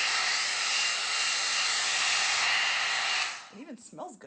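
An Amika blow dryer brush on its high heat setting gives a loud, steady airy roar for about three seconds, then cuts off as a voice starts.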